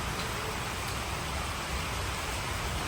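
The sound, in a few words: continuous rain falling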